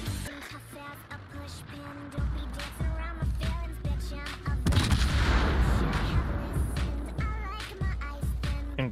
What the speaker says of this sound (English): showcasing the power of the main guns